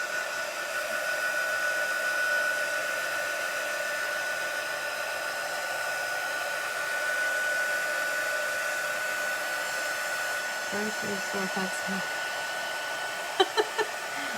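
A hair dryer blows steadily to dry chalk paste on a craft project, a continuous close whoosh with a constant whine, followed near the end by a few faint clicks and taps.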